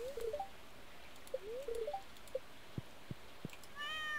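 Cat meowing in the farming game Stardew Valley: several short, bright chirpy meows in quick pairs, clear against a quiet ambient background, ending with a soft tonal chime.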